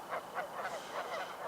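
Several geese honk repeatedly along a high, flooded river, their calls arriving in quick overlapping bursts over steady outdoor background noise, moderately loud and without talk.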